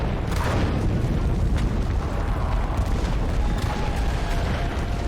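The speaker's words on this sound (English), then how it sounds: "Listen to the depth of the artillery that's being dropped on us right now." Deep, rumbling artillery explosions land in the video game Enlisted, a dense, continuous barrage of booming impacts with a heavy low-end roll, loud and close, no voices over it.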